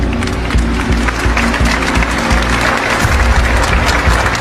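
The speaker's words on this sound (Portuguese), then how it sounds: "Vamos saudá-los com a salva de palmas." A church congregation applauds for the poor people of the parish, a broad, dense wash of clapping with a steady low hum underneath, loud and continuous throughout.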